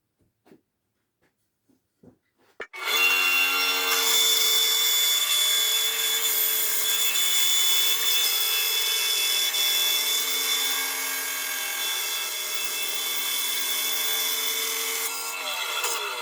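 A Parkside PBS 350 B2 band saw starts up and cuts through fence wood, giving a loud, steady whine and rasp that holds for about thirteen seconds after a few faint knocks, with no talking.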